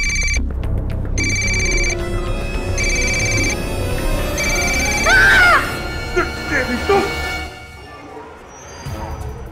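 A telephone rings after a mobile number is dialed, giving several evenly spaced electronic ring bursts. Voices and other noises follow once the ringing stops.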